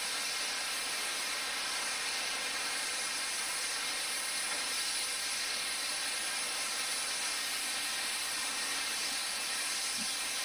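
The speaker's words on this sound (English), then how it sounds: "A wee bit of steam coming out" Steam hisses from the open cylinder cocks of a steam locomotive in Train Sim Classic, a steady broadband hiss with faint rail rumble that holds without break and carries no voices.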